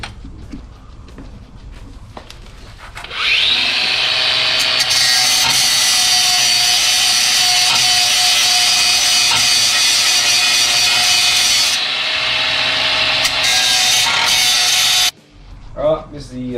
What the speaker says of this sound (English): just got to grind them off.